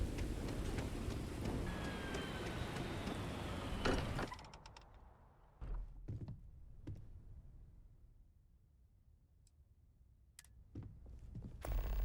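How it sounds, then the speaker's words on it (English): Steady rain falls in the Starfield video game, a dense continuous wash that cuts off abruptly partway through, leaving a quieter, sparse backdrop with scattered clicks and thumps. "at least the rain out here is normal"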